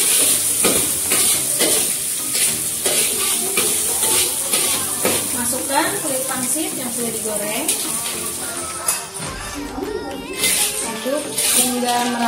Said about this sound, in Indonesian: Aduk hingga merata ke seluruh kulit pangsit.